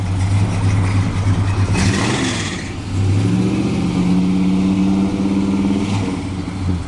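A 1965 Plymouth Sport Fury Indianapolis 500 Pace Car convertible with a Mopar big block engine rumbles nearby, a deep steady idle that swells into a throaty rev, drops back, then climbs again and holds loud.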